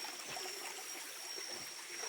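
River water flows and trickles steadily over rocks while someone walks through the stream in the Ujung Kulon forest, a constant close rushing wash with no talk.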